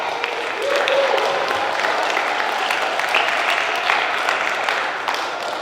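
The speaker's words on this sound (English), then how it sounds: "I will give them all a nice round of applause" School students and audience applauding film crews at a Christmas magic show: a broad, steady wash of clapping that swells slightly after the first second and holds, with faint voices underneath.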